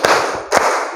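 Two sharp hand claps a moment apart, close and fairly loud, given in a counted warm-up with a group; no talk over them.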